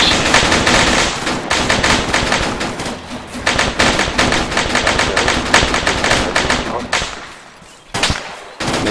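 Gunfire in a military video game, fast machine-gun bursts and single shots close up and loud, rattling almost without a break before a short lull and a last burst.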